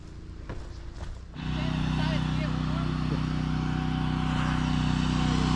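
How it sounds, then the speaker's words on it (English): Farm tractor starting up for backfilling a water line trench to a barn, a low droning engine that kicks in partway through and runs steadily and loudly close by. "Alright, let's get you on a tripod and go get this tractor and get to work."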